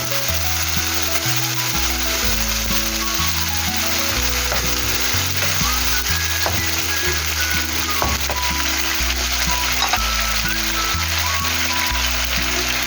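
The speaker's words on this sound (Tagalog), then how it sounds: "ilagay na natin ang ating sardinas. Durugin natin ng konti." Sardines sizzle loudly in a hot pan while being crushed and stirred, a dense continuous frying crackle with occasional scraping, close and steady throughout.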